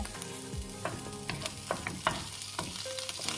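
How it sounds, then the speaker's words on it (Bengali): Oil sizzles steadily in a pan as eggplant slices fry, with scattered pops and crackles, and a few light clinks of a utensil stirring. "বেগুনগুলো আমার প্রায় ভাজা হয়ে গেছে দেখুন লাল লাল হয়ে গেছে"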